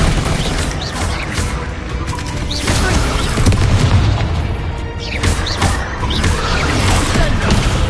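Heavy booms and crashes from Confringo blasting spells in the Hogwarts Legacy video game come one after another, loud and close, with brief spoken bits mixed in.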